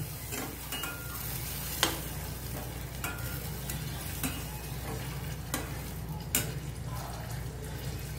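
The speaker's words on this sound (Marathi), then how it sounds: "टोमॅटोची प्युरी आपण ह्याच्यात जिंजर गार्लिक पेस्ट घालून घेऊया. ते चांगलं मिक्स करून घ्यायचं." Tomato puree with ginger garlic paste is stirred in a pan on a home stove, a soft steady sizzle with occasional scraping knocks of the spoon, quiet and close, with no voices.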